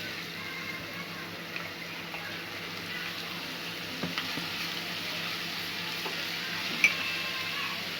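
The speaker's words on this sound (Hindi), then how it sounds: "अब इसमें हम लहसुन ऐड कर देंगे।" Garlic frying in hot oil for homemade Schezwan sauce, with a steady close sizzle and a few light clicks from stirring, and no voice.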